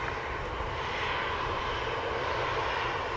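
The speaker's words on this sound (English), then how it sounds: "Ethiopian taxiing as well." An Ethiopian airliner taxis at Manchester Airport, its engines making a steady, broad rumbling roar that holds evenly throughout, moderately loud and without voices.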